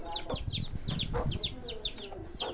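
A rooster in a village farmyard gives a rapid run of repeated high, arching clucks and calls, close and fairly loud over a low background rumble.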